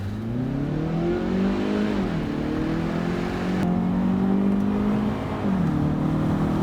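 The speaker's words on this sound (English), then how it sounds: "I just planted the gas and it just brought it right up to red line" A 2016 Hyundai Veloster Turbo accelerating hard to redline, the engine note climbing steadily with brief dips at gear changes, loud and close from inside the car.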